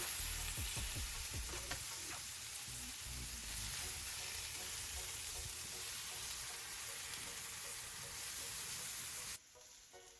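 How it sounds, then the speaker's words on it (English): Vegan taco shells sizzle and fry steadily on a hot Blackstone griddle, a loud continuous crackling hiss with a few scraping presses early on, lasting until an abrupt drop near the end, no voices. "Use your press to smash the taco shells down."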